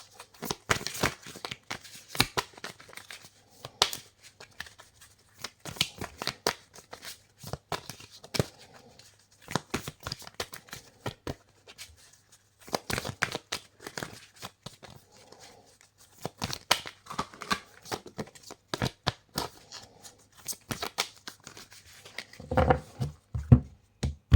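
Oracle cards being shuffled by hand for a reading, a series of soft riffling and flicking bursts with short pauses between, close and quiet.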